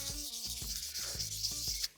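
Close, steady rubbing strokes of fine sandpaper on the hard, smooth lacquer of a Gibson Les Paul guitar neck, repeating in a quick back-and-forth rhythm.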